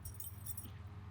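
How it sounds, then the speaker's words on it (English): Tossed car keys jangle briefly with a few bright metallic clinks, faint over a low steady hum, then fade out. "The keys to your new car."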